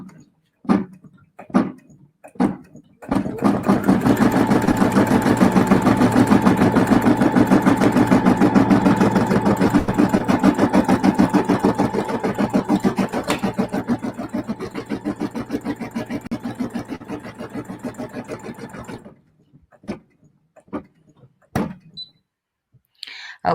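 A home embroidery machine stitches a tack-down run inside a 4x4 hoop, a steady close mechanical whir that runs about fifteen seconds before stopping, with a few clicks and taps around it.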